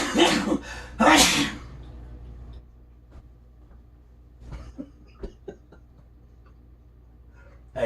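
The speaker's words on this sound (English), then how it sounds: "I gotta sneeze." Two loud, sharp sneezes in quick succession open the clip, followed by quiet background with faint clicks and small kitchen noises.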